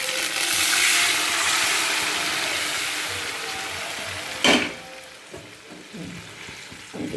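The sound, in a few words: boiled mung dal being added to a hot pan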